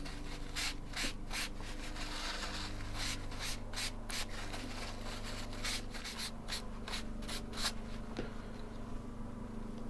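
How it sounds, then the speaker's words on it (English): Kitchen towel rubbing paint off grooved wood-grain floorboards on an OO gauge model railway interior, a steady close scrubbing with repeated short strokes and no talk. "we want to make sure that we get right down into the grooves of the boards, and we can rub that off"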